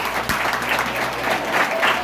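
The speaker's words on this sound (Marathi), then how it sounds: "दादासाठी टाळ्या वगैरे जोरदार जोरदार" An audience at a motivational talk on facing exams bursts into dense, steady applause, many hands clapping together at close range for the whole stretch.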